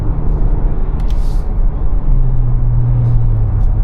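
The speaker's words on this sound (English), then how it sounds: "Light throttle here, holding revs a little bit higher." A 2024 Ford Ranger Raptor with a Ford Performance tune cruising at light throttle, its engine holding slightly higher revs as a steady low drone and road rumble fill the cabin, with a brief hiss partway through.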